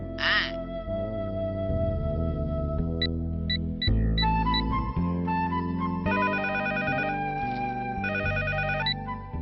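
A phone rings with a bright electronic melody, repeating note patterns loudly and continuously with no voices.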